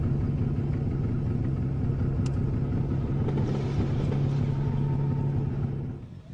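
HPI car engine on a street drag pass in Nagoya, a steady, loud, close rumble holding throughout before easing off at the very end.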